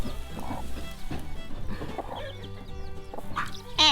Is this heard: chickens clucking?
yes